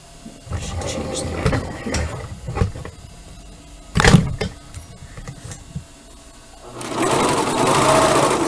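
A sewing machine stitches the curved seam of a surgical scrub cap in short bursts, then hums steadily in a longer loud run near the end, with someone talking over the first part.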